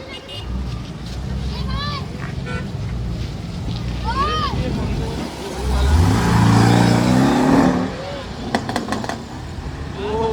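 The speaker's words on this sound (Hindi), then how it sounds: "गाइस अभी यहाँ से निकल रही है पोर्शे।" A Porsche pulls away outside a showroom opening, its engine swelling loudly midway through, with wind and crowd noise around it.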